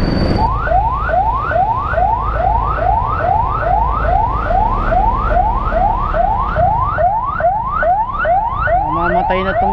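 An ambulance siren wails in heavy traffic, loud and close, repeating a rapid rising sweep about twice a second and switching to a faster pattern toward the end, with no talk over it.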